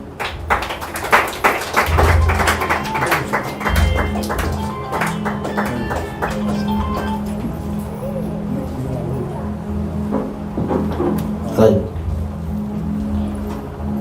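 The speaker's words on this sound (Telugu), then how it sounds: "వాళ్ళని ఆహ్వానిద్దాం చప్పట్లు కొట్టి" An audience claps to welcome guests at a village gathering, a burst of hand claps over a loud room, with someone speaking over the noise.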